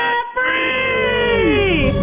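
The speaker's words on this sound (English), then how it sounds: "Let's hear a debt-free scream." A couple lets out a loud, sustained joint scream celebrating paying off their debt in a radio studio, the shout starting abruptly after a brief pause, rising and bending in pitch over about two seconds.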